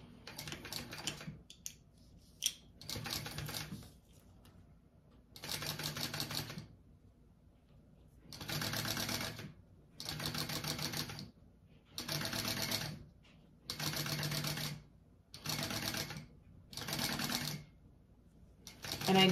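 A sewing machine bastes fabric onto a zipper for a bag, stitching in repeated short, rapid bursts of about a second each with brief quiet pauses between them, close and moderately loud.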